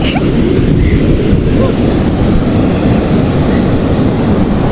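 Sea waves surge onto the shore with a loud, continuous wash and roar, heavy wind buffeting the microphone throughout.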